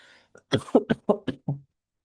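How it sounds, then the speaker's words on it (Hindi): A run of five or six short, dry coughs in quick succession, close and fairly loud, then silence. "सूखी खांसी आ रही है"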